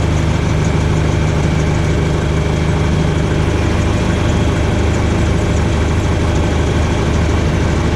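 A Ranger utility vehicle comes closer over rocky limestone hill ground, its engine a loud, steady, rumbling drone that holds for several seconds without any speech.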